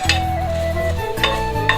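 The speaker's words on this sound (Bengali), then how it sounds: "এখন আমার শুকনা মরিচ ভাজা হয়ে গেছে বেশি ভাজবো না" Dried red chillies frying in a pan for a dried fish bhorta, a steady close sizzle with a low hum under it and a few sharp metallic spoon taps.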